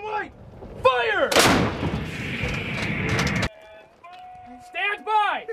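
U.S. Marines fire an M777 howitzer during training: one sharp, very loud blast with a long rumbling decay, set between shouted commands before and after.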